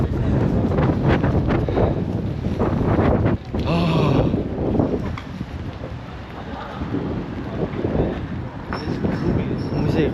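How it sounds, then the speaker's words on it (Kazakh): Strong wind buffets the microphone on a city street in Wroclaw, roaring loudly and continuously with rumbling gusts, while a voice speaks now and then beneath the noise. "Өте қатты жел соғып жатыр."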